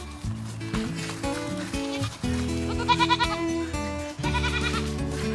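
A homestead goat bleats loudly and repeatedly, calling out for another goat, with long wavering cries up close and brief pauses between them.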